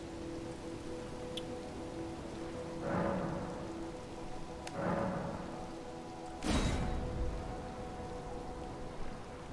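Rain falling steadily in the video game Elden Ring on the Altus Plateau, a soft continuous hiss with a few louder swells and faint crackles, quiet and with no talk.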